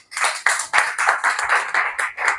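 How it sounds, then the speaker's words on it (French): A small church congregation claps for the children, about nine crisp, evenly spaced hand claps in a steady rhythm, close and clear with no talking. "On applaudit les enfants."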